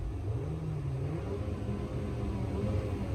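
A Mercedes-Benz car engine idles in a cold, icy setting, giving a low, steady rumble at moderate volume with no talking over it.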